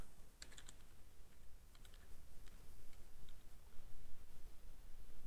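Quiet computer keyboard typing, a series of light, irregular key clicks over a soft background hiss, with a few quick bursts of taps close together.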